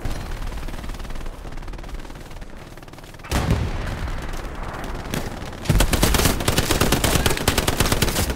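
Heavy gunfire in Hell Let Loose pounds continuously, with a sharp jump in intensity midway and a loud, relentless rapid-fire stretch at the end, mostly free of speech.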